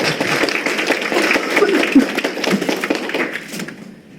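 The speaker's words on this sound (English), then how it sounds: "So let's give them a round of applause." Audience applause at a meeting on human trafficking prevention, a crowd clapping with dense overlapping claps for several seconds before tapering off and fading near the end.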